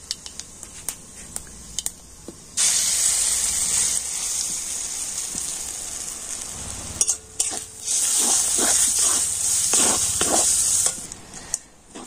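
Masoor dal hits hot mustard-oil tempering of panch phoron, bursting into a loud, steady sizzle that holds for several seconds, dips briefly, then flares again with crackles and spoon scrapes before fading, with no talking.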